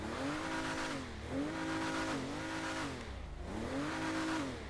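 An SUV engine in GTA 5 Online drones steadily and revs in repeated rising and falling sweeps as the vehicle accelerates and shifts, loud and continuous with no talking.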